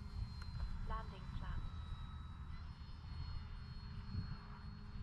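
Steady engine drone from a Bighorn RC model airplane on a landing approach with flaps down, heard from the ground at moderate distance under ongoing talk.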